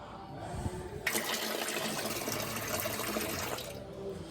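Liquid draining out of a valve on a combine being readied for wheat harvest, a close rushing splashing flow that starts abruptly and runs steadily for a few seconds before easing off.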